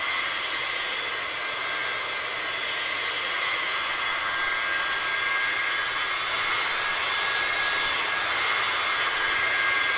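Simulated Caravelle jetliner engines in Flight Simulator 9 at Paris Orly, a steady, even jet whine and roar holding constant throughout, with faint high tones and a couple of brief clicks.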